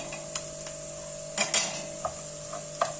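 Tomato paste is sautéed in a pot with onions and vegetables for okra stew, giving a low steady sizzle broken by a few sharp metal spoon scrapes and clinks against the pot.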